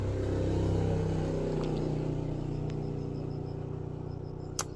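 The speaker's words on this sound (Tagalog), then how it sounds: "Mayroong dumadaang motor anak oh." A motorcycle passes on a village road in the morning, its engine drone fairly loud at first and slowly fading as it moves away, with a faint sharp tap near the end.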